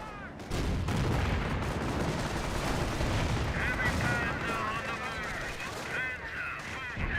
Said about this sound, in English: AT gun hitting it.